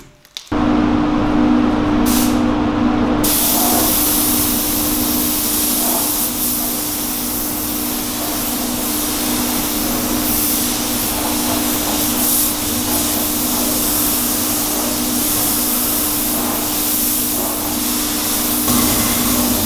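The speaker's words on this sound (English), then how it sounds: "I can start spraying the frame" A professional spray gun steadily sprays paint onto a Trek Madone bike frame, a loud continuous hiss with a constant hum beneath it, lasting throughout without speech.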